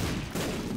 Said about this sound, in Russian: Взрывы просто бесконечные.